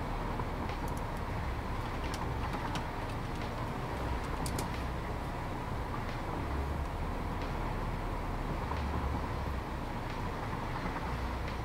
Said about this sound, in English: Whilst we're on this train ride